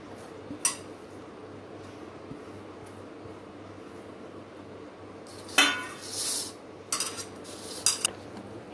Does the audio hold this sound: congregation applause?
no